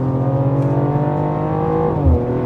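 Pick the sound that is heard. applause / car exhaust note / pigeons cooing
car exhaust note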